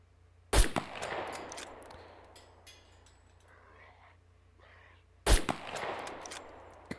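Two sharp, loud .22 rifle reports from the video game SCUM, about five seconds apart, each with a long ringing decay and a faint rumble in between.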